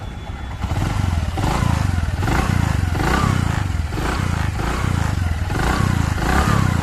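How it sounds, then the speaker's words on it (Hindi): A Bajaj Platina 100 motorcycle engine with a newly fitted timing chain revs under light throttle, its close, steady putter swelling in a few gentle pulses with faint mechanical clatter and no voices. "मैं आपको हल्की सी एक्सीलेटर देके दिखाता हूँ।"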